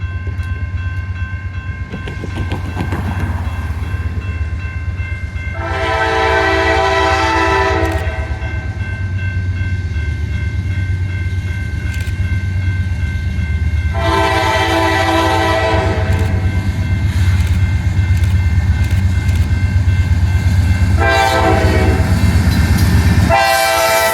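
A Norfolk Southern eastbound freight train rolls past near downtown Birmingham, Alabama, its horn sounding in three loud, sustained blasts over a steady, close rumble of wheels and cars.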